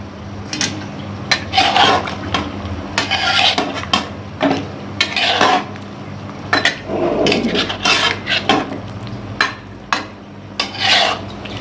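Yogurt is mixed into Afghani chicken karahi in a pot, with loud close scrapes and clanks of a metal spoon against the pan in uneven bursts and a faint sizzle, no talk.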